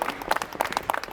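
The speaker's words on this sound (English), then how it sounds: "You stop clapping now." A small group of people clapping, uneven scattered claps close by, fading out within a second as the welcome winds down.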